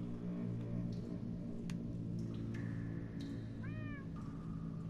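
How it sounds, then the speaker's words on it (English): Cats meow in the video game Minecraft Story Mode, a few rising-and-falling calls standing out over a steady low game hum and background music, with no talking. "There's a cat somewhere."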